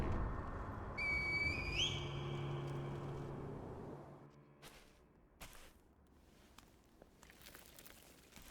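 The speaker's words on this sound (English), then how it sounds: "the escape route called the Divine Air with the reed whistle" Reed whistle blown in the video game Sekiro: Shadows Die Twice, a short rising, wavering tone lasting about a second over a low ambient game drone, followed by scattered soft thuds and rustles.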